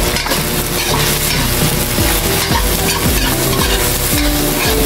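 Garlic sautés in a pan for ginataang pagi, a loud close sizzle with frequent scraping stirs and clinks of a utensil against the pan, and no voices.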